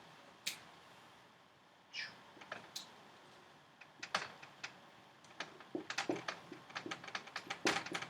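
Marker or chalk strokes writing on a classroom board, a series of short tapping and scratching strokes, sparse at first and then coming in quicker clusters toward the end, close and fairly quiet, with no talking.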